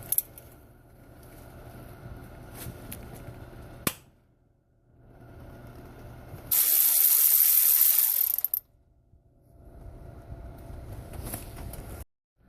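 Nut being spun off a stud on a car engine during a timing chain replacement, a close, loud burst of ratchet or power tool whirring for about two seconds between quieter clicks and handling noise.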